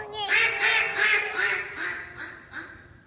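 A series of about seven loud, rhythmic quacks from a duck call imitating a duck's breeding call, close and evenly spaced, fading slightly toward the end.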